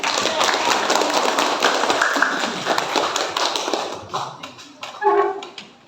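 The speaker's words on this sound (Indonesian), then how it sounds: "Tepuk tangan." A class of students clapping in dense, steady applause that thins out toward the end, followed by a few scattered claps and a brief voice.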